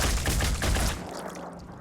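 A rapid burst of six gunshots strikes an armored carapace in a video game, a dense cluster of loud impacts packed into the first second before trailing off into quieter residual noise.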